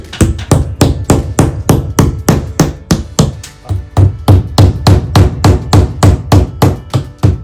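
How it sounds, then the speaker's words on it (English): Rapid, regular hammer blows striking close by as wall anchors are driven in, a steady series of sharp metallic knocks with brief pauses between bursts. "Use a normal hammer, and we're just going to install"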